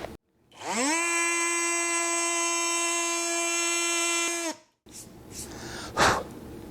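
A Dremel Blueprint oscillating multi-function tool runs for about four seconds, a loud, steady high-pitched buzz that starts and stops abruptly, followed by a brief pause and some handling noise.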